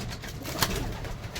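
Pigeons in a rooftop loft of homing birds give soft, steady cooing beneath a continuous low murmur, with one brief louder sound partway through.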